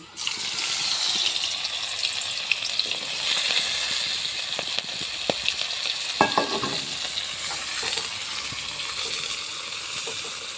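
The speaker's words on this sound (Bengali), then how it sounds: "ভালোভাবে পেঁয়াজটাকে ভেজে নেব" Chopped onions fry in oil with bay leaves and a dried chilli, a dense, continuous hiss and crackle heard up close, with occasional clinks and scrapes of a spatula stirring through.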